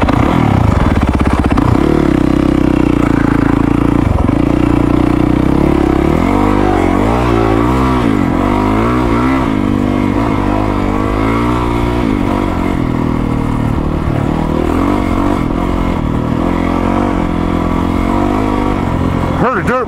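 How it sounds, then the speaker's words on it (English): A two-stroke dirt bike engine revs loudly and close by, its pitch rising and falling in repeated throttle blips over a sustained rough drone. "heard a dirt bike, but it was a two-stroke"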